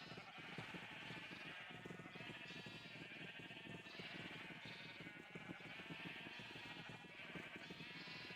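A crowd of sheep in Minecraft bleat over and over, overlapping calls forming a dense continuous chorus at moderate volume.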